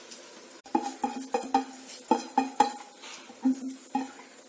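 Drained soaked rice tipped into a pot for egg biryani, a run of close clinks and scraping knocks of a utensil against the metal pot with a soft patter of grains.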